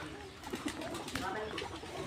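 Soft low cooing of pigeons on a family pigeon farm, a few gentle coos rising faintly through the quiet background, with a person's voice murmuring alongside.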